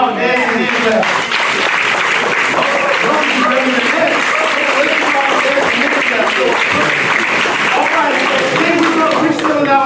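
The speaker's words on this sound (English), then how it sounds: "let's give our dads a hand clap" A church congregation breaks into loud, sustained applause with scattered cheers, dense clapping filling the space throughout, and voices mixed into the crowd noise.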